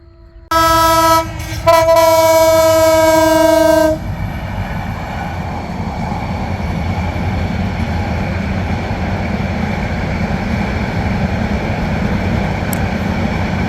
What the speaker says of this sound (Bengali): একদম ঘন কুয়াশার কারণে কিন্তু ট্রেন চলাচলও করছে লাইট জ্বালিয়ে